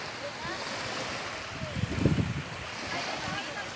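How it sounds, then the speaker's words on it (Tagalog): Sea waves washing onto the shore on Samal island, a steady broadband wash with a swell of surf near the middle, under light wind noise. "Akong background ang dagat."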